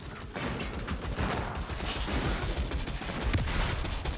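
Rapid sustained fire from a Skaven ratling gun in the Vermintide video game, a dense mechanical rattle of automatic shots running continuously and loudly throughout with no pauses.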